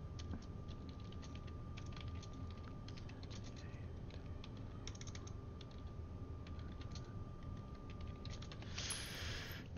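Typing on a computer keyboard during a Star Citizen gaming session: faint, continuous soft key clicks in an irregular rhythm over a low background hum, with a brief brighter noise at the very end.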